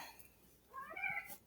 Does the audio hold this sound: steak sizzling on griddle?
no